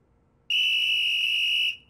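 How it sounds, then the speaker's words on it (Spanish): A toy safety whistle gives one sharp, steady, high-pitched blast that lasts just over a second in a quiet room, then stops abruptly. "Pero nada de silbato en la mesa"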